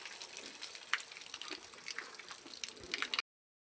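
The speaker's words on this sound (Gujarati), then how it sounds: "આપણી ગાયો આમથી હાલી આવે છે અને પાણી પીતી રહી છે" Cows at a trough drink water, with soft irregular splashing and dripping that runs steadily for about three seconds before cutting off. No one speaks.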